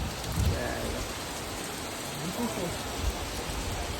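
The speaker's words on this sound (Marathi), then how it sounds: "पाऊस का थांबायचं नाव येत नाही आता" Steady rain pours down continuously at night at Dadar Chowpatty beach in Mumbai, a dense close hiss, with faint voices murmuring beneath it now and then.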